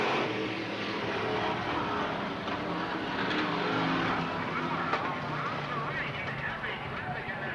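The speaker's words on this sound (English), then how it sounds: "Phil Miller spins the 0-2 right on the front stretch." Street stock cars race at Selinsgrove Speedway in 1988 as one spins out on the front stretch, a loud, continuous engine roar filling the air without a break.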